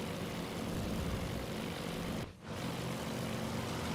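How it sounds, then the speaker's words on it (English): Propeller fighter plane drone from a Wildcat in Task Force Admiral, a steady dense engine roar filling the whole stretch with one brief dip near the middle, no talk. "There's a wildcat diving through our formation."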